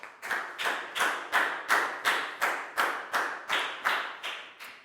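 Slow, evenly spaced rhythmic claps in a primary school English lesson, about ten sharp beats with short ringing decay, steady and moderately near, with no talking.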